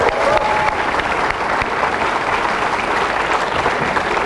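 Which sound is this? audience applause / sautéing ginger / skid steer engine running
audience applause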